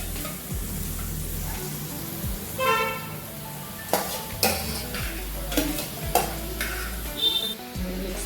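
Chicken pieces with curry leaves being stirred in a frying pan for a curry leaves chicken varuval, a steady sizzle under repeated scraping strokes of the spoon against the pan, close and moderately loud.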